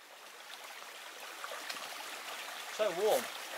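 A small stream on Hay Bluff flowing toward the River Wye, giving a steady, soft wash of running water that stays in the background, with a brief voice near the end.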